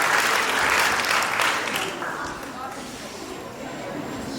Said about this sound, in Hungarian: úgyhogy tapsoljátok meg